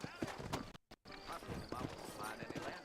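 In the Red Dead video game, a horse's hooves clop in a quick, steady rhythm and a whinny rises among them. Speech runs over the sound, and a brief dropout breaks it near the start.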